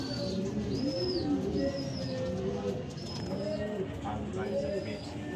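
Racing pigeons arriving at the loft during a race, soft cooing and bird calls mixed with faint whistles and background chatter, steady busy outdoor ambience.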